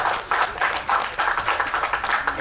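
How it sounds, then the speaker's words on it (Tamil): Audience hands clapping in bursts at a film team event for Thookudurai, close and fairly loud, with rhythmic rounds of applause rising and falling over a couple of seconds. "தயவு செஞ்சு நீங்களே ஒரு தடவை கைத்தட்டீங்க"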